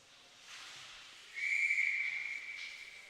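A referee's whistle sounds at a youth ice hockey game, one sustained shrill tone held for more than a second above a faint arena hiss, heard at moderate distance.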